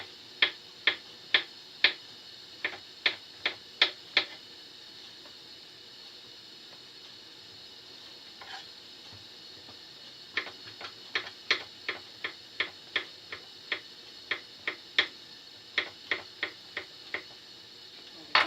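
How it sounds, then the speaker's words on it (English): A knife chops a mushroom into small bits on a cutting board, giving fast, evenly spaced sharp taps in two bursts with a short pause between them, close and clear with no talking. "Let's cut into quite small bits,"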